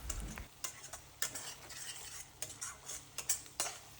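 Spices stirred and sautéed with tomato and onion in a pan for Indian egg fried rice: repeated scraping stir strokes over a steady close sizzle, with no talking.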